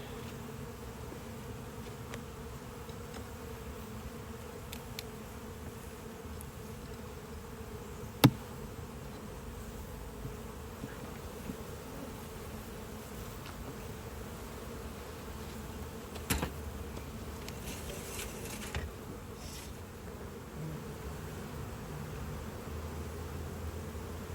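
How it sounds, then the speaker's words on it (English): Honeybees buzz steadily at an open hive in a dense, continuous hum, with a few brief clicks and knocks breaking through now and then. "the bees are really active today"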